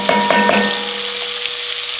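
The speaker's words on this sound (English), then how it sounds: "You're going to cook your onions for 5 minutes and get some color on them." Onions frying in butter in a pan over medium heat give a bright, close sizzle with a few quick clinks and crackles at the start, then a steady hiss.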